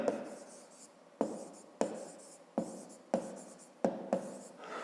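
A pen scratches across paper while math homework is written out, a quiet close sequence of about seven distinct strokes, each starting sharply and trailing off, with no talk.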